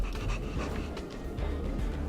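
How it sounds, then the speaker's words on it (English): A dog pants rapidly in Honkai Star Rail, quick rhythmic breathy huffs close up over a low rumbling game background. "now we're playing hide and seek with the dog"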